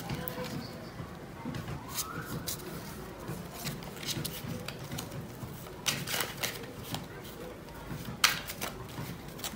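Tarot cards being shuffled and drawn from a deck, with soft papery riffles and quick flicks and taps close up, quiet overall, with faint background noise.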